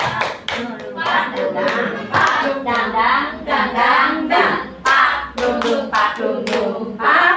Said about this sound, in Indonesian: untuk ice breaking kali ini kita lakukan tepuk dang ding dong